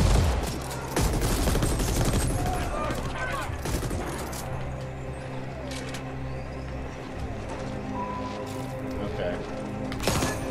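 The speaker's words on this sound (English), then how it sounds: "So what, they started shooting at us afterwards?" Gunfire rattles through a firefight in the action video game The Ascent, with dense rapid volleys and sharp single cracks. The shooting is loud and continuous at first and then thins out into scattered bursts.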